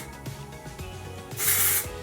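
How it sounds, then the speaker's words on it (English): A short, bright hiss of IGK Beach Club texturizing hair spray sprayed into curly hair, close and loud, with a few faint soft taps before it. "So again, I'll spray it within the hair."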